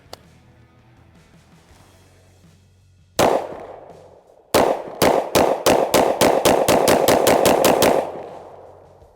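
A Daniel Defense H9 pistol fires a magazine of rounds: one sharp report, a pause, then a fast string of about a dozen loud, close shots ending in a brief ringing decay.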